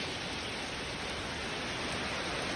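Rain pours steadily around a rural house in Udon Thani, Thailand, a dense unbroken hiss that holds at the same level throughout with no voices.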